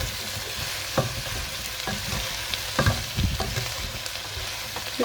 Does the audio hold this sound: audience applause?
no